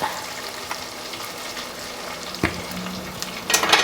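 Asafoetida and curry leaves sizzle in hot oil as the tempering for a mixed-vegetable kadambam sambar, a steady frying hiss with a few sharp crackles and stirring clinks, the loudest burst near the end.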